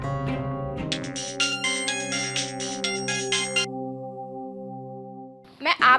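A phone ringtone sounds for a call in a home, a melodic tone pattern lasting a few seconds before cutting off, followed by a brief burst of voice.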